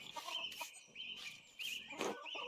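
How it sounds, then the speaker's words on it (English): Hens cluck in a hen house in the video game Pentiment, several birds trading short clucks and soft calls in bursts over a steady background, moderately close. "My, a veritable hen house."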